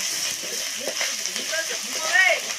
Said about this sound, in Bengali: রসুন বাটা দিয়ে ফোড়নের মধ্যে আমি রসুনটাকে খুব ভালো করে নাড়াচাড়া করে ভেজে দিচ্ছি